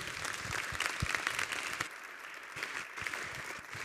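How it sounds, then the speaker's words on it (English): An audience applauds after an architecture lecture, a steady dense wash of clapping that runs the whole stretch without a break. "So give him an applause."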